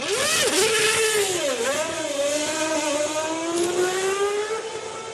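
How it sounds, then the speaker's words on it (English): A Formula One race car in the Grand Prix 4 video game accelerates hard out of the pit box, its engine note climbing steadily through the gears, loud, close and continuous with no talk. "the car screams out of the box, leaving the pit crew in a cloud of smoke"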